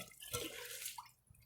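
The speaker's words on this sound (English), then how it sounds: "I'm going to put a little bit more water into the bowl since it didn't quite fill all the way." Water poured into a toilet bowl, a short, faint splash and trickle lasting about a second and a half, with no voices.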